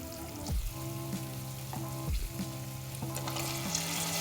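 Vegetables for veg biryani frying in a pan with golden onions, a steady crackling sizzle heard close by, broken by several low thumps and scrapes as the pan is handled, with no talking.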